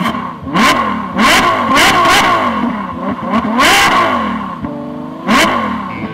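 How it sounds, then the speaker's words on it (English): Several car engines rev hard in short bursts for a racing radio show opening, loud and close, one roaring rise after another with a final revving burst near the end. "Start your engines."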